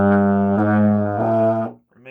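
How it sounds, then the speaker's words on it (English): A beginner plays the euphonium with a croaky, wavering tone: one sustained low note held about two seconds with slight shifts in pitch, then stopping abruptly before a brief faint sound. "it may sound a little croaky like this."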